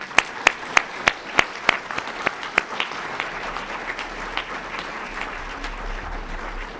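An audience at a Martin Luther King Jr. birthday celebration applauds a performance: a handful of sharp, evenly spaced claps open the round, then merge into a softer, steady wash of clapping that carries on to the end.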